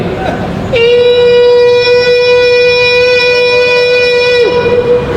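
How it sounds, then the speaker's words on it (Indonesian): A loud, steady siren wails on a single sustained tone for several seconds, sounded ten minutes before the call to prayer for imsak, rising in abruptly and dipping at the end over faint background noise. "di tempat kita ada 10 menit menjelang azan suara sirine"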